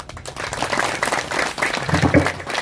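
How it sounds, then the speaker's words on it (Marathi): Audience clapping at a kirtan, a dense, steady patter of many hands filling the room, continuous for a few seconds with a low murmur underneath. "माझी जोरात वाजवा टाळी अशी"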